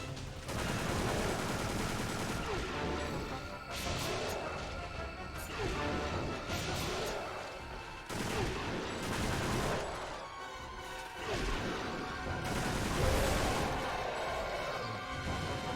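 Repeated heavy blasts from a special purpose missile launcher in Extermination on PS2, each boom roaring across a dense, noisy game soundscape in a cramped space, coming in regular loud waves.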